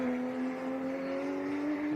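Race cars in a Lamborghini and Porsche circuit race in Riga, including a black Lamborghini and a number 92 Porsche Cup car, hold a steady droning engine tone at moderate distance with no voices.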